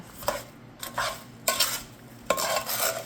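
A spoon scrapes and stirs peaches and blueberries coated in two kinds of sugar in a bowl, giving several rhythmic scraping strokes of uneven loudness with soft clinks against the dish.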